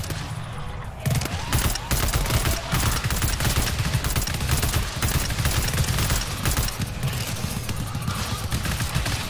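Sustained rapid gunfire in a video game, shots fired through a metal grate, loud and close in a continuous dense barrage with few pauses.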